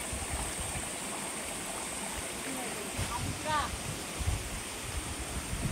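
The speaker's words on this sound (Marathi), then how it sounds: "सह्याद्रीचा सर्वात मोठा उंच असा धबधबा दाखवतोय." A tall waterfall in the Sahyadri hills near Virar gives a faint, distant, steady rush, with a few brief chirps and soft voices in the background.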